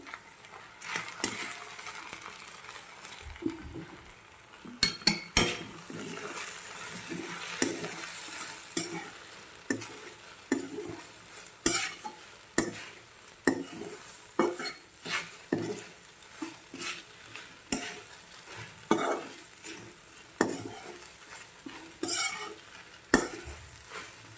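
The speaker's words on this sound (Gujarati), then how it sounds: "તેમાં આપણે જે બેસન શેક્યો હતું તે નાખી દેવાનું છે અને સારી રીતે બધું મિક્સ કરી દઈશું" Rhythmic scraping and clinking of a spoon stirring a thick okra curry with roasted gram flour in a pan, with a soft sizzle underneath.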